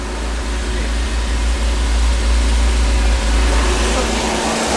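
A 1977 MGB Roadster running on earlier-style carburetors, its engine a steady, loud, close-up drone with a strong low rumble that holds even throughout.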